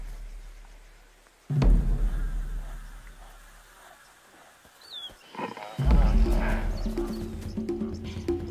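Wild lions hunting buffalo in shallow African water: heavy splashing and thrashing bursts break out amid buzzing insects, with deep animal sounds and a surging commotion that builds toward the end.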